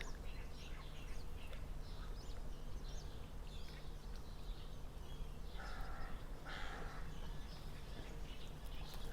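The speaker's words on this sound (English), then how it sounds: "You hear those crows?" Crows cawing outdoors near water, a few harsh calls at moderate distance, two clearer bursts later on, over constant wind-like noise.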